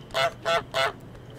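A voice imitates a goose with three loud, nasal honks in even rhythm, up close and alone.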